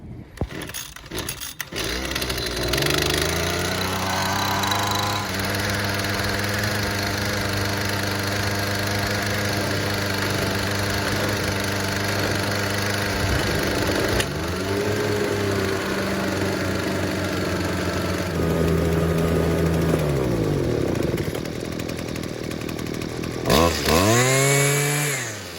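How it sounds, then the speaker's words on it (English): A small two-stroke leaf blower engine starts up after a few pulls and runs at a steady, loud, buzzing drone, dips briefly in pitch mid-run, then cuts out and restarts near the end. "So I just try to start up the leaf blower at least once a month"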